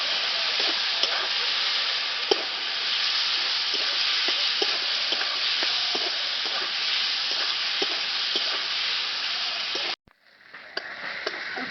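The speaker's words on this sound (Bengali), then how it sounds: "এবার পেঁয়াজ আর টমেটো একসঙ্গে ভালো করে ভেজে নেব।" Sliced onion and tomato with a little salt fry together in a pan with a dense, steady hiss. Soft stirring taps come through at intervals until the sound cuts off abruptly near the end, and no one speaks.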